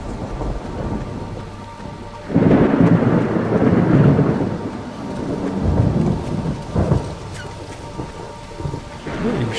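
Heavy rain and loud rumbling thunder from a storm in the horror game Pineview Drive, a big close thunderclap swelling and slowly rolling away over constant rainfall, with no one speaking.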